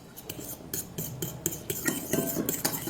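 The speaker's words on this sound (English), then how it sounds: "Now just mix really well." A spoon scrapes and clinks against a bowl, stirring a noodle sauce seasoned with black pepper in a quick, steady rhythm of close, light taps.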